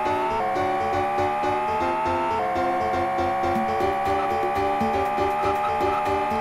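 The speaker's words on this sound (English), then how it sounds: "So start your engine. Oh yeah, we're gonna start our engines." A Jaguar XJ220 race car in a Sega Mega-CD racing game roars steadily, its engine note climbing through gear changes as synthesized game music drives along beneath it, loud and continuous with no talk.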